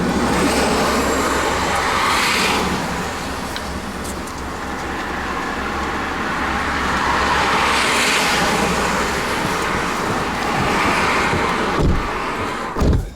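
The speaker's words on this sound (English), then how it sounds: "I'll leave the engine running, so we'll keep the heat on." A car engine idles with a steady low hum inside a stationary vehicle during a driving lesson, joined by faint road noise from outside and a couple of soft knocks near the end.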